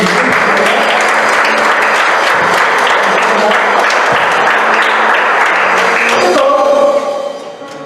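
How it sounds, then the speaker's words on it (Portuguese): A church congregation claps loudly and continuously in a worship service, dense applause filling the room before it tapers off at the end. "Então levamos ao palmas a Jesus."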